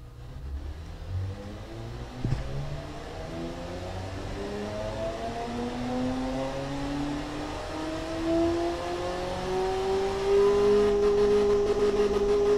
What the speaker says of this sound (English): Let's start this up and see how badly it flubs.